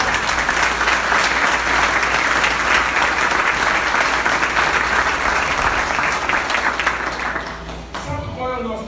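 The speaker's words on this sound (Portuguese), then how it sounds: "dá um aplauso ao Senhor" A church congregation claps loudly and continuously for about eight seconds during a sermon, the applause fading out at the end.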